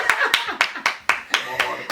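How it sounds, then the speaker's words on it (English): An audience claps in short, bright bursts, about eight sharp hand claps spaced fairly evenly over two seconds, close and loud with no voices. "Big clap."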